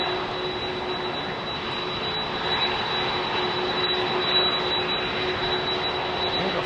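A jet airliner departs London Heathrow runway 27R with a broad, steady engine roar that stays loud and close for the whole stretch, a constant high whine riding over it and no talk on top.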